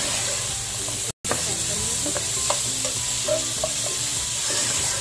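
Vegetables for a Chinese-style sizzling fish stir-frying over high heat, a loud, dense, continuous hiss and sizzle with scattered clinks and scrapes of stirring, broken by one brief dropout.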